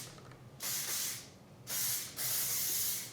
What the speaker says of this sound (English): I'm gonna do one more spray